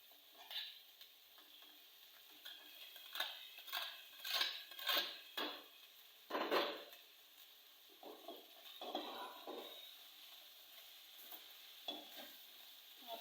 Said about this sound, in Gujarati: હવે આપણે એમાં ભાત નાખશું